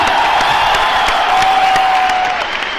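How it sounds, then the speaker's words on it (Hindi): Loud, dense applause fills a large indoor gathering as a crowd honours a guest, a continuous roar of many hands clapping, with a faint sustained tone running beneath it and easing slightly at the end. "एक बार जोरदार तालियां"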